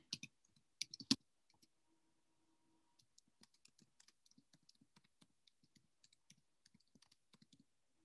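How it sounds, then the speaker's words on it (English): Typing on a computer keyboard, a few louder clacks at first, then a long run of quiet, irregular key clicks, close and faint in an otherwise silent room. "And then you can start typing in."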